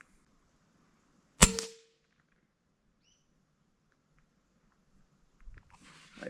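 A single sharp gunshot cracks out at a shooting target, short and fairly close, followed by quiet and faint handling noises near the end, with no speech.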